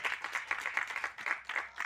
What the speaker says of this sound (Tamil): கப்பட்டுள்ள நம்ம கலைப்பிலி சேரன் அவர்களுக்கு கைத்தட்டி பாராட்டு தெரிவிப்போம்